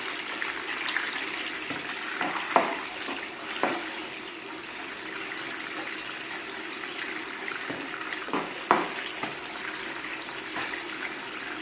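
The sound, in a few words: water flowing through Gold Cube sluice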